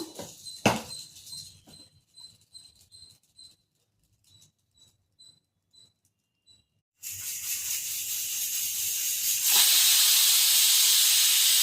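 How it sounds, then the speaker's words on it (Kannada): A pressure cooker cooking beetroot and chickpea curry lets off steam: after several seconds of faint kitchen clatter, a loud, steady hiss bursts out and grows stronger, continuing alone to the end. "ಕುಕ್ಕರ್ ಕೂಗಿದೆ"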